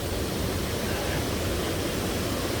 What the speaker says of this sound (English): Hope you guys enjoyed me showing off these amazing waterfalls